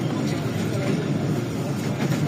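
A Pakistan Railways passenger train rolls into the Lala Musa junction railway yard, giving a steady, loud low rumble of wheels and carriages heard from on board, without pause.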